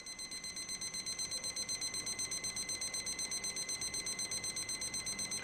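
A temperature alarm on a boiling pot beeps in a rapid, steady series of high-pitched pulses, repeating evenly throughout at moderate volume with no voices.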